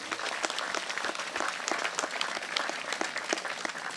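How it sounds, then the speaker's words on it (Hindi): A crowd at a Bible convention applauds in a dense, continuous patter of many hands, steady and moderately loud throughout. "ताली बजाते हुए प्रभु का धन्यवाद करिए"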